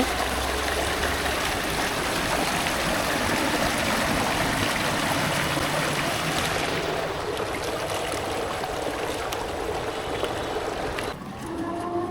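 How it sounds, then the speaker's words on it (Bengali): A village stream in rural Bangladesh flows steadily, a continuous close rush and trickle of water that stays loud throughout, easing slightly near the end. "এখানে কিন্তু জলের আওয়াজটা দেখা যাচ্ছে"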